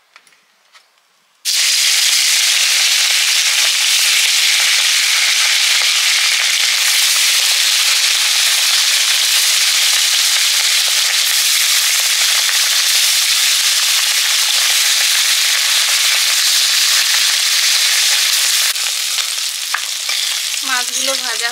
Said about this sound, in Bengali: এবারে পুকুরে মাছগুলো ভেজে নেব।